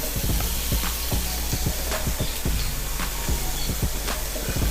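Curry leaves and onions frying in hot oil make a dense, loud crackling sizzle, broken by quick rhythmic stirring strokes against the pan.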